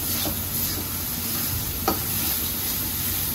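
Spice paste sizzling steadily in hot oil for a dark duck curry, a constant close frying hiss with a brief spoon scrape partway through.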